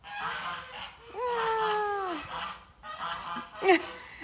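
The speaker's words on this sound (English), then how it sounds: "Hold on, bonus geese." Geese honk loudly nearby in a few drawn-out, cracking calls, with short gaps between bursts and a sharper honk near the end.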